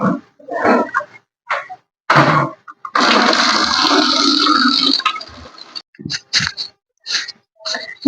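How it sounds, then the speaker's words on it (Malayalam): Water gushes out in a steady rush for about two seconds, close by, with short bursts of other noise and voice-like sounds before and after. "ആ പൈപ്പ് ഇങ്ങനെ തുറന്നു വെച്ചിരിക്കുന്നു"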